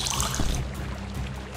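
Water poured onto a small tree in a video game, a brief, steady trickling pour with a soft splash, fairly close and alone.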